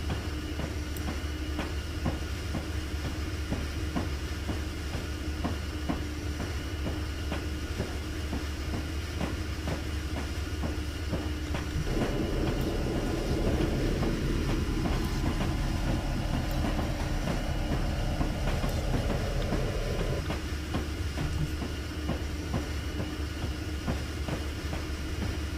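Locomotive running on a single-track main line in Train Simulator 2020, hauling empty boxcars: a steady rumble with rail clicks, a louder, deeper engine swell in the middle before it settles back.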